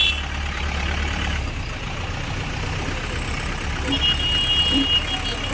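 A vehicle engine idles with a low, steady rumble before pulling forward, and faint voices and background noise sit around it.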